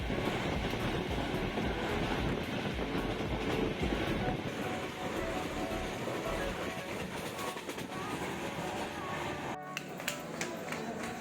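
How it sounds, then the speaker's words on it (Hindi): A passenger train moving fast after leaving a station, heard from inside with a steady loud rumble and rattling clickety-clack of the wheels on the rails, continuous throughout. "हमारा ट्रेन एकदम करेक्ट टाइम पे स्टेशन छोड़ दिया और आगे की तरफ हम बहुत तेज़ी से बढ़ने लगे"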